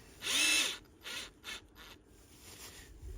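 Screws being driven into a door cabinet, a mechanical ratcheting whir from a driver in one louder burst followed by several shorter, fainter bursts, close by with no talk.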